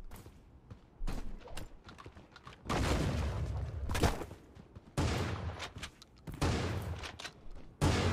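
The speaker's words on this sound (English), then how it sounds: "being in this shotgun fight right now" Shotgun blasts in a Creative Destruction firefight, heavy booming shots in several dense bursts roughly a second or two apart, loud and close with game ambience between.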